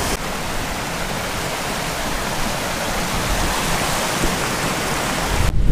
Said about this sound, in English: The spillway's letting some water down.